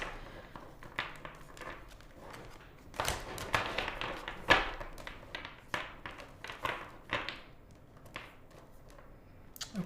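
Tarot cards being shuffled by hand in a quiet room, a run of soft papery riffles and taps that comes in irregular bursts, with louder clusters in the middle and a few sharp card snaps.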